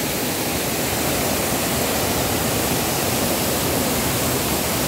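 Sian Falls in Barangay Sibaroy, Bislig, Surigao roars as a loud, steady wash of falling water that fills the whole clip without a break.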